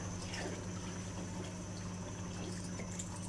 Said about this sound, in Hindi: चलो अब हम इसमें पानी ऐड करेंगे जितना हसबे ज़रूरत आपको पसंद हो शोरबे के लिए